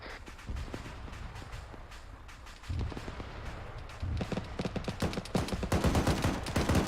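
Gunfire aimed at a light BTR armored vehicle in a military video game, sustained rattling volleys of rapid shots that thicken and grow louder toward the end, dense and fairly close, with no talking over it.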